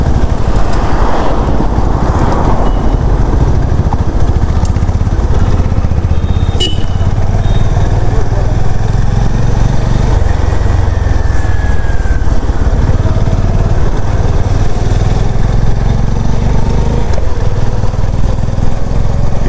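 A motorcycle engine droning steadily while riding on Varthur Road out of Bangalore, loud and close with constant wind and road rumble and no speech.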